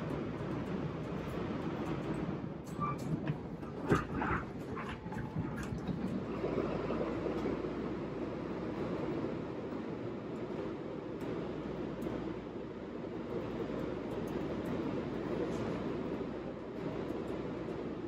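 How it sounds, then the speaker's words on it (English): Steady rumbling ride on a commuter train to Grand Central, New York, a continuous low roar with rattling and hiss, loud and close, no talking. "This is the train to Grand Central."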